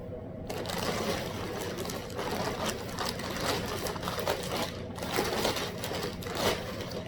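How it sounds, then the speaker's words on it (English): Plastic wrapping on costume clothing from the Superman and Lois wardrobe crinkles and rustles continuously, close and fairly loud, with dense crackling that rises and falls as it is handled. "Sorry if the crinkling comes over loud on the thing."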